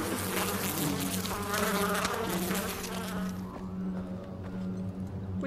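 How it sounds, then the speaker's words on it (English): Bees buzz in Far Cry 4, a dense steady swarm drone that is loud at first and then thins, with a faint low hum beneath and no talking. "I am not so good with bees."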